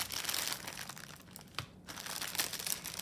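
Plastic packaging of cross-stitch kits crinkles and crackles as it is opened, close and fairly quiet, in irregular bursts with a brief pause midway and no talking.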